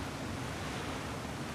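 Steady broadband rush of flowing water in God of War Ragnarök, even and continuous without breaks, moderately quiet with no voices.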